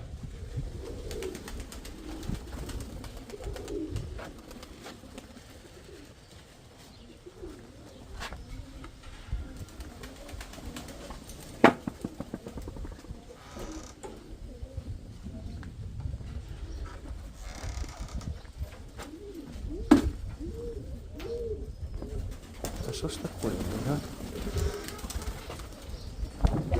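Pigeons coo softly among rustling and occasional wing flaps in a sultry, close setting, a continuous low murmur with sporadic sharp knocks, no voices.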